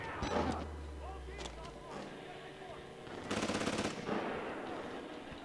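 Rapid bursts of automatic gunfire sound in the horror video game Outlast Whistleblower, a short rattling volley layered with game effects while someone speaks over it.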